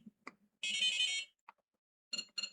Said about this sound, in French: J'ai la petite sonnerie qui m'annonce que j'ai un message.